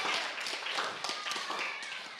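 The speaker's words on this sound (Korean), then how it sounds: "박수 쳐주세요" An audience of teachers at a Thursday worship gathering claps to welcome someone forward, a soft, scattered patter of hands heard at a moderate distance and fairly quiet throughout.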